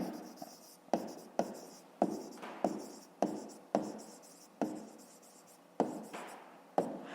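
Pen writing on paper during a fifth-grade math exercise, a close, quiet run of about a dozen sharp scratching strokes, each starting abruptly and fading, in a steady rhythm.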